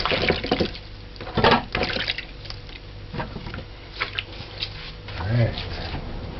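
Items are rinsed by hand under running tap water in a kitchen, with splashing and gurgling from the water stream and intermittent knocks and squishy handling sounds, close and moderately loud.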